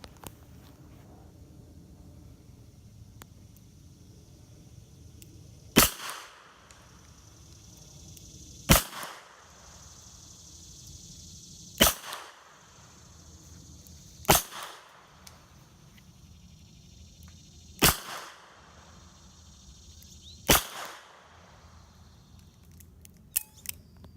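Smith & Wesson Model 19 revolver firing .38 wadcutters at a target about 10 yards away: six sharp, loud single shots spaced a few seconds apart over quiet background hiss.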